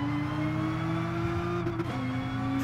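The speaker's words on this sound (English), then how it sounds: "And you can really get on the throttle here." A Nissan GT-R in GT Sport runs at full throttle, a loud, sustained engine drone holding a steady high pitch with a brief dip as it shifts, close and continuous.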